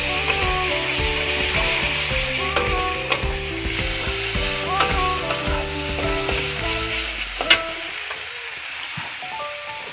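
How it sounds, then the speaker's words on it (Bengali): Hot water is poured into a sizzling pan of fish curry base, with a loud steady sizzle and frying hiss over stirring scrapes, music playing throughout, the sizzle dropping away near the end. "গরম জল ঢেলে দেব"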